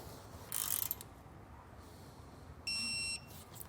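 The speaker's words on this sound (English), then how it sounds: "we're going to be torquing our bottom bracket to the amount that's specified in our installation manual" A torque wrench ratchets while a bottom bracket bolt is tightened during an Air Lift LoadLifter 5000 air helper spring install: a short burst of close, crisp clicking, then a steady electronic beep about two seconds later, over faint background hiss.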